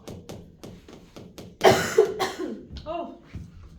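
A few sharp coughs break out close to the microphone after some tapping, then talking resumes quietly, during a math lesson.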